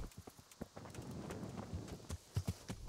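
Horse hooves clip-clopping in the medieval game Kingdom Come: Deliverance, a run of irregular close hoof knocks over a soft ambient bed, louder thuds near the end, with no talking.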